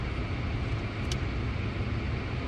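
A car engine idles on a cold day while the windows defrost, giving a steady low rumble under a broad airy hiss, with one brief click partway through.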